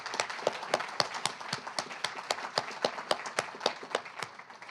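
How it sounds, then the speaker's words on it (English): Audience applause after a poetry reading by two poets, a steady run of distinct, fairly close claps with a loose rhythm and no talking over it. "We have one more big round of applause for Annie and for Lena"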